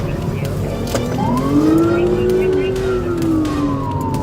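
A police siren wails in slow rising and falling sweeps over the roar of a moving police car's engine during a pursuit, with voices talking and crackling radio noise.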